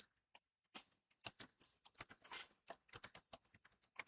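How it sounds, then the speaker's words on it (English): Quick irregular keystrokes on a computer keyboard in a quiet room, close and crisp, tapping out a network address in short bursts. "If I can type right,"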